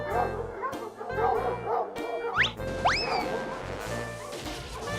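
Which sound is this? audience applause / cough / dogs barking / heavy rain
dogs barking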